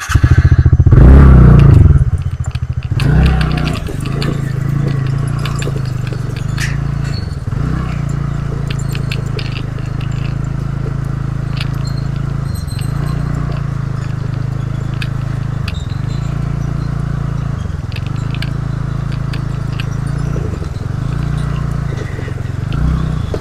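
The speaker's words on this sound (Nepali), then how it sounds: "फर्स्ट टाइम मैले यसरी पुलमा यसरी स्कुटर लाँदैछु" A scooter rides across a bridge in a peaceful natural setting, its engine droning steadily up close while rhythmic clattering bumps repeat every couple of seconds as the wheels cross the deck joints.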